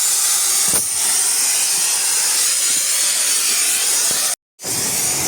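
Car body being cut off with a cutting tool, a loud continuous harsh hiss that runs almost unbroken for several seconds, pausing briefly near the end before resuming.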